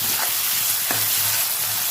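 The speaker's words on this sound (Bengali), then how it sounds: "পেঁয়াজ কুচিটা দিয়ে দেবো, লবণ দিয়ে দেবো, পেঁয়াজটা ভেজে নেবো ভালো করে।" Chopped onion with salt, dried chilli and whole garam masala fries in hot oil, a steady close sizzle with a couple of brief stirring scrapes and no voices.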